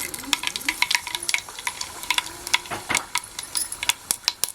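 Spices for a chutney tempering crackle and pop sharply in hot oil over a wood-fired stove, a quick irregular series of close sizzling snaps over a low hiss.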